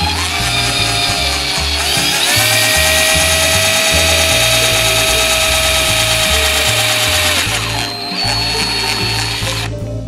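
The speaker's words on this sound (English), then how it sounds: "simply drill a hole through the end of the end cap" A power drill whines continuously for several seconds drilling a hole through a PVC end cap, its pitch steady and loud, with rhythmic thumping music underneath.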